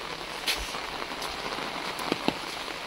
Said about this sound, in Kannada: ಆ್ಯಕ್ಚುಲಿ ಮಳೆ ಇನ್ನೂ ಬರ್ತಾನೆ ಇದೆ.